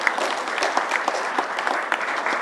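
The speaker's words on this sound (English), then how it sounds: "Let me give you a round of applause" A short burst of steady audience applause at a talk, with many hands clapping close together at an even level and no voices.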